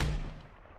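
A single artillery round fires in a military video game set during an advance from Lembork, a deep, loud boom that fades into a brief rumbling tail.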